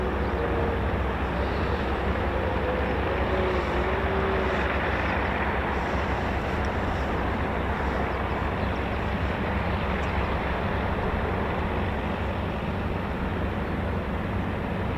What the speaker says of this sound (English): The Lancaster is running.